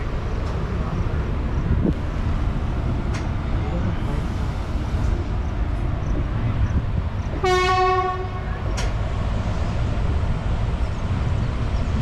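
A passenger train stands halted at a railway station on a Tirunelveli–Tambaram route in Tamil Nadu, with steady low rumble and station ambience throughout and one brief tonal horn or whistle sounding partway through.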